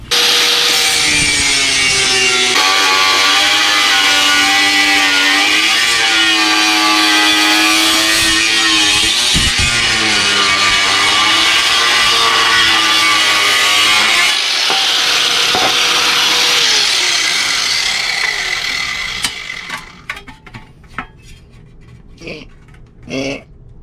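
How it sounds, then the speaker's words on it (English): An angle grinder cuts a Harley-Davidson spiked motorcycle rear fender in half, a loud continuous high metallic whine and grinding rasp with shifting pitch for about twenty seconds, then winding down to scattered clanks and quiet handling. "I'm going to have to cut this directly in half with my grinder"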